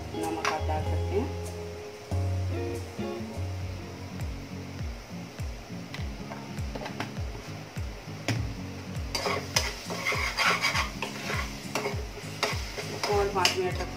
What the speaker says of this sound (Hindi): और 5 मिनट तक फिर फ्राई करेंगे।